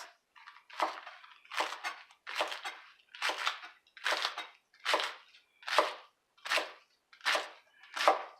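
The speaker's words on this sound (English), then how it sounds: "I'm going to make 2 cuts into the lettuce" A knife slicing through a head of lettuce, about eleven crisp, crunchy cuts in a steady rhythm, close and clear with short silent gaps between them and no talking.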